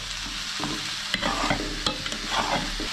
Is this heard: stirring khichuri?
yes